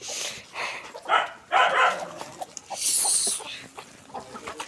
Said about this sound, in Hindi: ये है मुर्गियाँ।